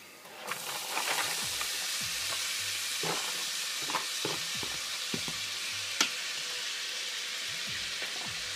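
Onions and celery sauté in a pot for clam chowder, giving a constant close sizzle with scattered stirring knocks and scrapes, and no talking.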